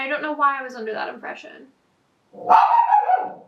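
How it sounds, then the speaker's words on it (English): A dog barks once or twice in the background while someone talks, the barks partly masked by her voice during a makeup session. "So sorry for my dog."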